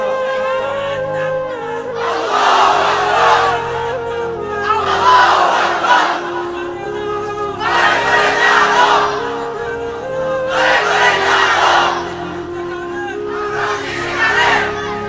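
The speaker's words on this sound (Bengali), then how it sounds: "দাঁড়িয়ে স্লোগান দাও লিল্লাহি তাকবীর" A crowd of men at an Islamic religious sermon gathering chants the slogan Lillahi Takbir in five loud, rhythmic bursts, each a massed shout of roughly two seconds separated by short pauses.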